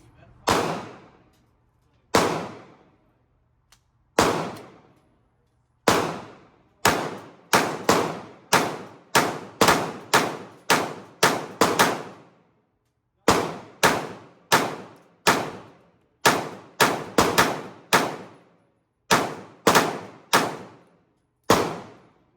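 Repeated gunfire from a Glock pistol fitted with a Radian Ramjet, firing 115 grain brass: sharp, loud shots in quick strings, with a few single shots early on, then fast bursts and brief pauses between groups.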